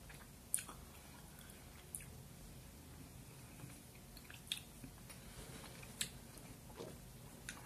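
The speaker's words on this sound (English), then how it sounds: "initially chewing it is no different than putting any other food in your mouth." Close, quiet chewing of a piece of gum by someone wearing dentures: soft wet squishes with occasional sharp clicks of the dentures at irregular intervals, heard alone.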